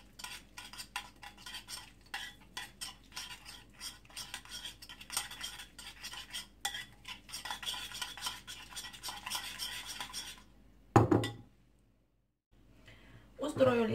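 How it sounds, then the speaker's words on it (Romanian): A wooden spoon mixes garlic with salt and oil into a paste, making rapid, rhythmic scraping and tapping strokes close up. The stirring falls briefly silent near the end, then resumes, with faint voices in the background. "voi amesteca usturoiul împreună cu sarea și uleiul. Până când uleiul se va forma o pastă"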